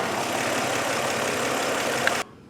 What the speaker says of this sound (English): as soon as I pinched off the brake booster hose, there was a change in idle